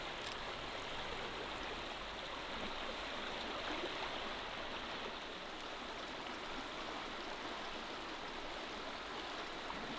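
A continuous, broadband rush of crystal-clear spring water surging upward in a powerful current from over 50 meters below, in Albania; loud and unbroken, with no voices.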